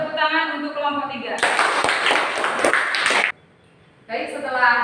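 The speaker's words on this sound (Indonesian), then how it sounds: "Kasih tepuk tangan untuk kelompok 3." Classroom applause for a student group during an Islamic religious education lesson: about two seconds of dense, lively clapping from the class, with a teacher's voice talking before it and resuming after a short silence.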